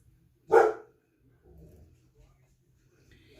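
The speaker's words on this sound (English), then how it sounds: "Chevy, why do you always got to bark when Mommy's doing a video" A dog indoors in a home kitchen gives one sharp, loud bark, followed by quieter low rustling and faint background sounds.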